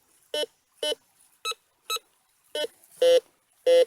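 A metal detector set to discriminate iron sounds off on a coin-like target in the ground at an old homesite, giving seven short, clean beeps at irregular intervals, the last two louder and longer.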